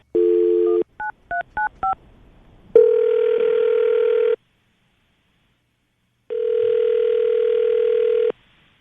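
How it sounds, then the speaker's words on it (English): A steady telephone dial tone, a quick run of keypad beeps, then two long ringback tones separated by a silent pause. "All right, Ben, we're going to call her right now, see if we can get her on the phone"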